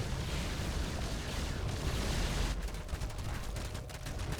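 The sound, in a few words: StarCraft units shooting, from a video game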